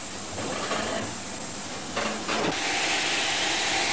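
The Red Devil 3450 steam locomotive lets out a loud, continuous hiss of escaping steam that swells and pulses, with a brief surge partway through, and no voices.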